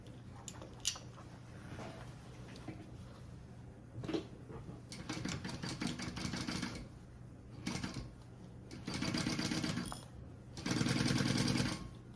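A sewing machine stitches a crossbody bag pocket in several short bursts of fast rhythmic whirring, growing longer and louder toward the end, with soft clicks and handling noises between runs.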